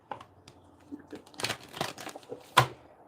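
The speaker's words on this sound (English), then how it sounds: "That was a bad shuffle." Tarot cards being shuffled by hand: soft papery riffles and crinkly flutters in a short, uneven burst, close and fairly quiet, ending with a sharper snap.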